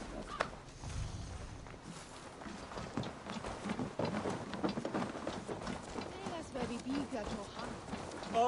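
Horses galloping in Assassin's Creed Valhalla make a steady, fairly close run of hoofbeats, with a rushing, rain-like wash behind them and a voice talking over the gallop.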